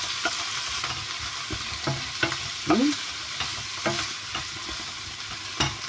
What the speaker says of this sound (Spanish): Dejamos que se evapore un poquito el alcohol del vinillo